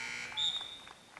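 Scorer's table buzzer at a Smith County versus Watertown high school girls' basketball game, one short bright tone lasting about a third of a second, heard in a gym amid crowd noise with faint talk.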